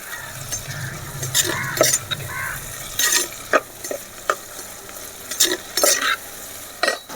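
Vegetables such as brinjal and broad beans sautéing and being stirred in a pan for a medicinal curry, with soft steady sizzling broken by repeated near scrapes and clinks of a utensil against the pan.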